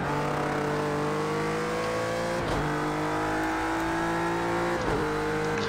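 A GT3 race car's engine drones loud and close on track, holding a steady, sustained tone with two brief shifts or dips in pitch; no voices are heard.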